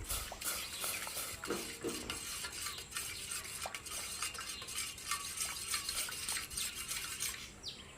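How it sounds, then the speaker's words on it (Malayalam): Tea stirred in a pot on the stove, with a quiet, steady run of metallic spoon scrapes and clinks against the pot over a faint bubbling hiss, no voices. "എന്നിട്ട് നന്നായിട്ടൊന്ന് ഇളക്കി കൊടുക്കണം"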